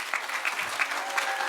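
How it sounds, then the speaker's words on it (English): An audience at a live talk event in Hawke's Bay claps, a steady, dense round of applause from a crowd, continuous and moderately loud throughout. "We'll give a bit of a premature round of applause for Paris Brown."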